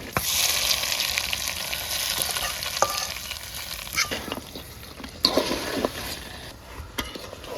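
Tempering oil sizzles loudly over cooked duck kala bhuna, a steady frying hiss broken by a few sharp crackles and stirring clinks, close and alone without voices.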